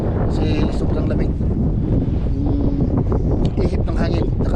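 Strong wind blows across a cold seaside spot where crab traps are set, roaring as steady, loud buffeting against the microphone for several seconds.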